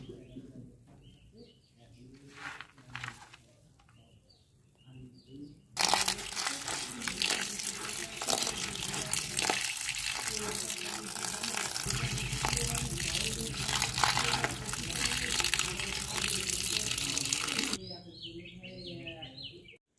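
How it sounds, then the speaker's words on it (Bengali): Lentils being rinsed in water for making village-style pumpkin bori, a loud sustained rush of running water with sloshing, preceded by quieter splashing and a voice, birds cooing faintly nearby. "সব ডাল ভালো করে ধুয়ে নিয়েছি"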